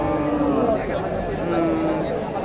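Sahiwal cross cattle low at a busy cattle market, their drawn-out moos rising over steady crowd chatter and voices throughout.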